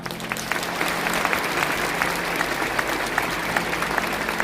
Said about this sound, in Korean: 이제 청중을 향해 돌아서실 때 큰 박수로 축하해 주십시오.